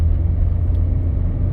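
A 1997 Range Rover with a BMW-built 2.5-liter straight-six turbodiesel underway, giving a steady low engine drone and road rumble that stays even and fairly loud throughout, with no talking.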